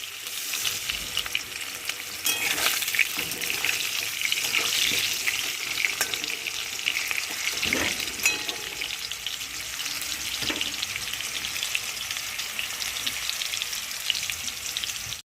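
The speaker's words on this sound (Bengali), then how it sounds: "আমার আলুগুলো লাল লাল করে ভাজা হয়ে গেছে" Potatoes sizzle steadily as they fry in oil in a home kitchen pan, a dense continuous hiss with occasional sharper pops and stirring scrapes throughout.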